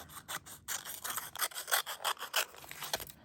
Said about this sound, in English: Just going to trim this roughly.